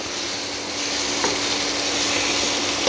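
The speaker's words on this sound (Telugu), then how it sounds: "మాడకుండా ఇట్లాగ ఈ తాలింపు ఇట్లా కలుపుతూ ఉంటే అది మెత్తగా అయిపోద్ది" Raw mango seasoning frying in oil while being stirred, a steady close sizzle with broad hiss running throughout, no voices present.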